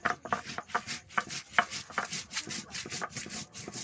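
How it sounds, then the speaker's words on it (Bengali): Cumin seeds, coriander seeds and a few dried red chillies ground on a flat stone slab, a close, rhythmic series of gritty rubbing and scraping strokes, roughly three or four per second, with no talking. "এটা আমি শিলে বেটে নেব।"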